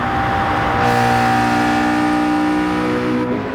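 A race car engine in Gran Turismo Sport drones at high, steady revs, a buzzy metallic whine holding a constant pitch with slight shifts, loud and continuous.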